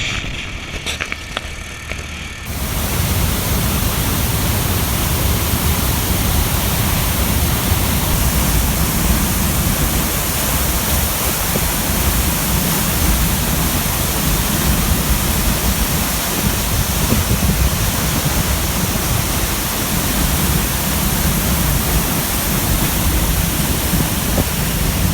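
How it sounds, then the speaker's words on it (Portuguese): Irapuru waterfall near Nova Lacerda: a loud, steady roar of falling water that starts abruptly after a quieter opening moment and then continues unbroken and close by. "Aqui na cascata do Irapuru, em Nova Lacerda."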